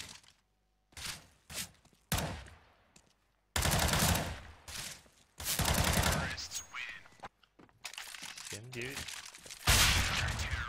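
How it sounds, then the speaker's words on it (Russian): Bursts of gunfire from a one-on-one CS:GO match, sharp repeated shots and rapid volleys with brief gaps, with a voice talking excitedly between them. "Ох, какой выстрел."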